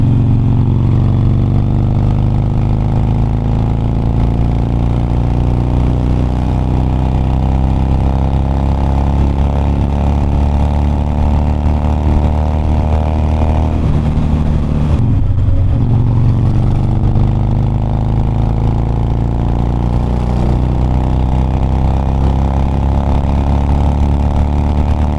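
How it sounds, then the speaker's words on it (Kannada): Superbike engines, a Yamaha R1 and a new-generation Suzuki Hayabusa, drone loudly and continuously on a road near Kolar, a sustained deep engine roar with shifting pitch and no talk over it. "ಯಾವುದೋ ಸೂಪರ್ ಬೈಕ್ ಬರ್ತಾ ಇದೆ, ಹೊಸ ಜನ್ ಅಯ್ಯಬುಜ"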